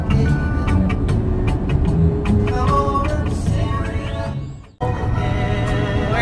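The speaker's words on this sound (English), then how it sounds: "We're driving." A car cruises along a highway in Georgia with a steady, loud rumble of engine and road noise, occasional clicks and tones over it, and a brief sudden dropout before the drone resumes.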